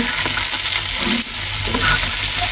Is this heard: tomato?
yes